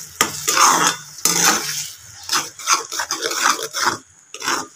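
Potato curry masala with tomatoes frying in oil as a spoon stirs and scrapes the pan, giving close, rhythmic rasping strokes in irregular bursts with soft sizzling between them.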